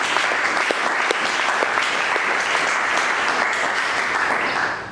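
Church congregation at a Sunday service clapping and cheering for Jesus, a dense, steady roar of applause with scattered louder claps running throughout at full volume.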